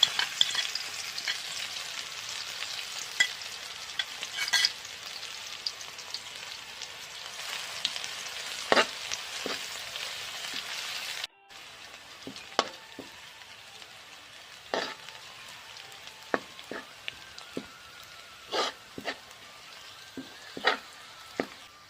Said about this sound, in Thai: เจียวกระเทียมก่อนนะเจ้าแล้วก็ถอดพริกเนาะ